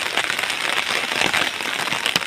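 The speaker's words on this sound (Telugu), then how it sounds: "మంచి జల్లు పడుతుంది ఫ్రెండ్స్" Dense, steady hiss of water showering down, like a close rain shower patterning evenly on a surface without pause.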